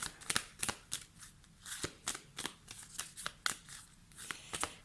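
Tarot cards are shuffled by hand before a reading, giving a series of crisp, papery riffles and slaps in an uneven rhythm, close and fairly quiet, with no voice.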